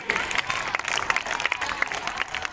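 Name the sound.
audience applause at prize announcement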